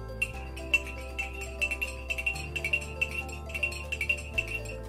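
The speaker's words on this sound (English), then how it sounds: "And now I'm just gonna stir it all together." A spoon stirring cookie dough ingredients in a bowl gives a run of light, irregular clinks and taps, close and fairly quiet, over a steady low hum.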